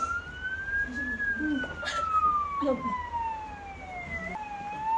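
A thin electronic siren tone slowly sweeps and wavers, steady and moderately loud, with children's voices and bird-like chirps scattered underneath.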